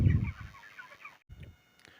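Chickens on a poultry farm, a flock on day 38 of rearing, cluck close by in a loud opening burst, then fade to quieter scattered clucks with a brief pause midway.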